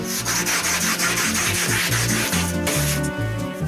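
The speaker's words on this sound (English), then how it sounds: "she's trying to shave it down to size using a drywall rasp, which is like an industrial strength cheese grater" A drywall rasp shaving a drywall panel down to size, making loud, continuous rough scraping in steady back-and-forth strokes, close up over low rumbling background noise.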